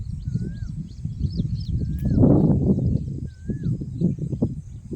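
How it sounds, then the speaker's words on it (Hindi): Several birds chirp and whistle in repeated short calls over a low rustling background, outdoors and moderately distant. "चिड़ियों की आवाज़ आपको सुनाई दे रही होगी"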